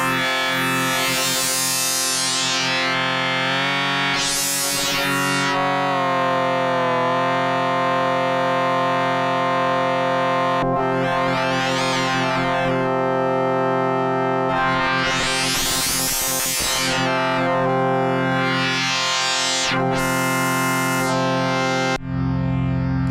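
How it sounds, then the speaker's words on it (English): Phase distortion synth tone from the Elastic OSC iOS app, a sustained bright buzzing timbre with sweeping filter swells that rise and fall repeatedly, loud and alone. "We've got a phase distortion."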